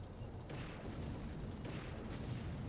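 Tanks are blown up in the Army Men: Sarge's Heroes video game, heard as a muffled, continuous rumble of explosions with a few swelling booms, fairly quiet and without talk.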